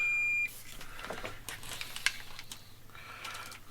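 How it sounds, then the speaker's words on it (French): A USB joystick's wiring is tested with a continuity tester: a short high electronic beep sounds at the start, then faint clicks and rustling handling noises follow, with a brief sharp tick midway. "Ah, là, il y a quelque chose qui bip entre ces deux-là."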